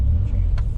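A 1980s movie car driving on a road, its steady low engine rumble continuous and close throughout a brief moment, with a faint rushing swell near the end.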